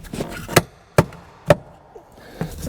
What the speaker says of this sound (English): every time I swing this hammer, I'm thinking I'm going to mess this thing up